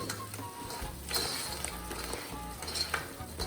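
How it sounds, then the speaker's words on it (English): Crab pieces are stirred into a Sri Lankan chilli crab curry in a pan, producing a soft ongoing sizzle with scraping and light clinks of a spoon against the pan. "Let's add the crab. Wow. And mix well."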